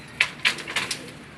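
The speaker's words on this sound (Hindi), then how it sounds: "आज कबूतर उड़े हुए हैं ये बच्चे" A few soft, brief pigeon calls, spaced irregularly over a quiet background; no voices.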